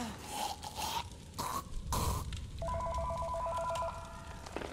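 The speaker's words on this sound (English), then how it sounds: "Then you'll get a phone call." A phone rings in the VR game Accounting Plus, heard as a steady electronic tone pattern in the latter half over game noise and scraping sounds.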